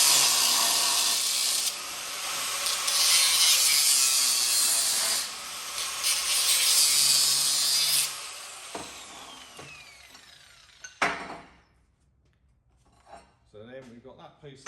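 A loud, high-pitched grinding whine as a cutting wheel cuts metal steadily for several seconds, then winds down. Metallic clunks and a voice follow near the end.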